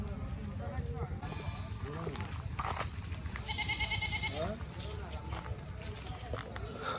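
Sheep and goats at a livestock market bleat in scattered, wavering cries over a busy crowd murmur, with several calls near and others farther off as people talk throughout.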